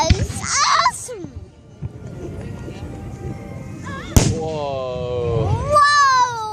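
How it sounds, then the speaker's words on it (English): Fireworks at a night display burst in a sharp bang near the middle, with crackling and whistling streaks across the clip, while children and adults react excitedly over them. "It's still firework time."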